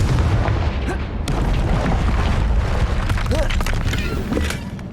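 Confringo fire spell from the Hogwarts Legacy video game, a heavy booming blast with crackling bursts and scattered debris sounds over a low rumbling bed.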